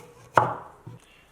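A knife chops fresh ginger on a board: one crisp, loud cut followed by a second, softer tap, close up in an otherwise quiet kitchen.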